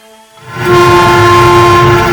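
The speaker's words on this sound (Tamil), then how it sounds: "அப்போ தூரத்து ரயில் வர சத்தம் கேட்டது." An animated train rumbles in from a distance, growing louder over a couple of seconds, with a sustained horn tone sounding over the rolling noise.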